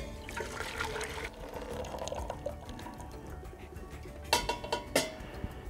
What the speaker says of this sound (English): I'm going to pour the tea back into the pot so I can boil it with the condensed milk.